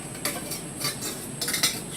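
Metal camping cook kit pots, pans and a lid being handled, giving several close, bright clinks and clatters in irregular bursts.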